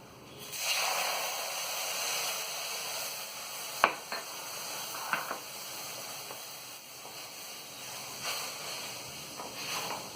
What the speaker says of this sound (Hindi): अब हम इसमें दूध डालेंगे।